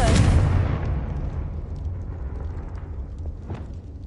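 A Confringo spell exploding in Hogwarts Legacy, with a loud booming blast that hits at once and then rumbles and fades slowly over several seconds, with a faint pop near the end.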